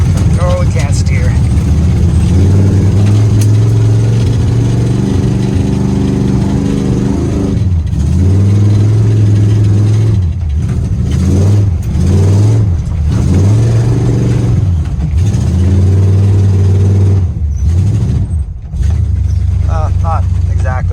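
Diesel engine of a 1979 Western Star truck with a Detroit 8V71 revving hard and loud, climbing and dropping repeatedly in rapid surges while the truck struggles nearly stuck in a field, voices underneath.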